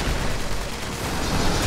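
Loud, dense burst of gunfire in the online game Fallout 76, a continuous roar of shots with no pauses, heard close and without talk.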